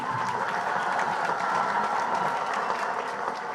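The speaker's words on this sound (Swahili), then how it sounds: "Tumpige Mungu makofi" A crowd at a church fundraising event claps steadily, a sustained, fairly close wash of applause with no break over the few seconds.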